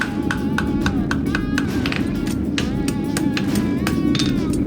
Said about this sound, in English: round side of my hammer, right down the center of that seam